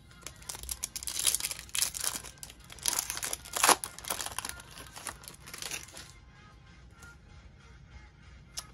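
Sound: baseball card packs being torn open

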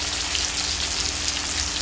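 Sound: chopped tomato added to sizzling fried onions

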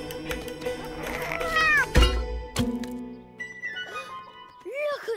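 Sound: cat meowing in a cartoon

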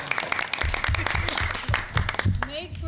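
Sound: applause

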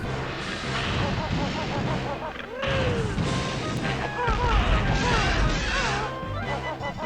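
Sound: cannon firing in the video game Banjo-Tooie

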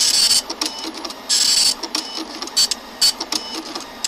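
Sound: printer printing in video game Freddy's Pizzeria Simulator

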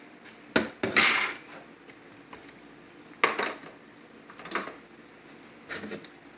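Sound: pouring food into a pot

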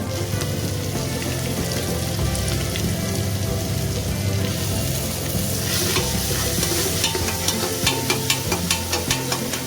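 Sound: onions frying and being stirred in a pan

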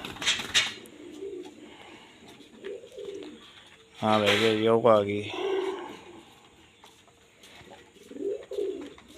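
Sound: pigeons cooing

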